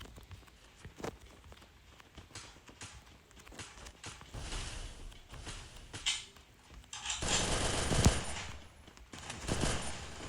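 Rapid bursts of gunfire and explosions from the mobile battle game Free Fire, loud and dense, with footstep-like clatter and a louder blast near the end.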